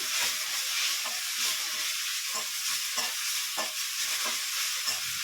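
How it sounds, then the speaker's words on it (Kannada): A handful each of mint and coriander fry in masala for country-chicken biryani, making a loud, continuous close-up sizzle broken by regular scraping stirs. "ಈಗ ಒಂದಿಡಿ ಪುದೀನ ಹಾಕ್ಕೋತಾ ಇದ್ದೀನಿ ಹಾಗೆ ಒಂದಿಡಿ ಕೊತ್ತಂಬರಿ ಹಾಕ್ಕೊಂಡಿದ್ದೀನಿ ಹಾಕ್ಕೊಂಡು ಸ್ವಲ್ಪ ಫ್ರೈ ಆಗೋವರೆಗೂ ಫ್ರೈ ಮಾಡ್ಕೊಳ್ಳಿ"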